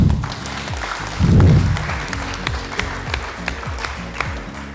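Applause from an audience at a cooperative's members' gathering, a steady wash of clapping hands that swells briefly and stays under low, rhythmic background music.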